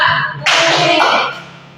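A class of students claps together in one quick, dense burst, loud and close, that fades out after about a second.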